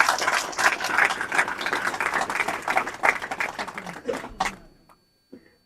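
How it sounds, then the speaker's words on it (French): A crowd applauds at a political ceremony installing a national executive committee, with steady, dense clapping that fades out toward the end, leaving a brief isolated sound after the quiet. "j'aimerais que vous applaudissiez massivement pour le remercier"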